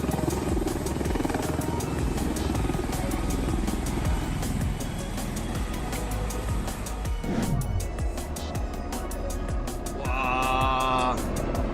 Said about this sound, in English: this is a Core MV-22B Osprey military tilt rotor vertically taking off from an aircraft carrier in the middle of the ocean